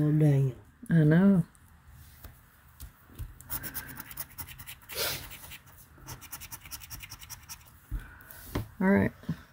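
A Texas lottery scratch-off ticket is rubbed with quick bursts of dry scratching, close and fairly faint, while people chat around it.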